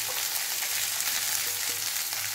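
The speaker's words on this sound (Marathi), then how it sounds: "आता यामध्ये घालायची आहे चिरलेली भेंडी।" Chopped okra (bhindi) fries over a full gas flame in a pan, with a loud, even hiss of oil that runs unbroken and close throughout.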